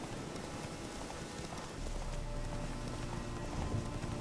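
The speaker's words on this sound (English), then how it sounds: "My horse can even go over that." Horse hooves clip-clopping at a steady run in The Witcher 3 video game, a continuous rhythmic beat under game ambience and music, with no talking.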